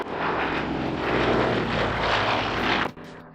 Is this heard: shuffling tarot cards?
no